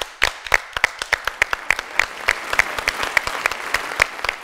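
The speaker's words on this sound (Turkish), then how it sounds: "Bence sizi alkışlamalıyız." A studio audience applauds a quiz show contestant with a burst of brisk, fairly even hand claps that stay loud and steady for several seconds.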